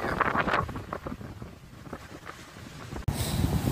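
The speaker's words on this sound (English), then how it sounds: "Sorry about the wind noise." Strong gusts of 50 mph wind buffet a microphone outdoors at a 1950s school site during metal detecting, producing loud, rumbling, continuous wind noise with fluctuating bursts, then a sudden louder, brighter gust near the end.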